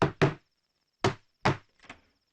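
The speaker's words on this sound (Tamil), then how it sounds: "அதுக்கு எதிர் வீட்டுல போய் கதவை தட்டு" Someone knocks on a house door: a quick double knock, then two single raps, then a fainter final pair, crisp and close against silence.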